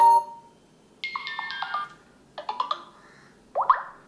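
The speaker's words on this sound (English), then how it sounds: "select notification ringtone" Short notification tones from a Vivo Y100 5G phone play one after another as system sounds are previewed: a bright chime, then a cluster of quick bubbly blips, then a final short tone, loud and close with no talking.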